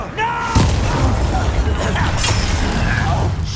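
A Confringo blasting spell in the Hogwarts Legacy video game explodes with a loud boom, then a sustained rumbling burst under a spoken voice shouting spell names.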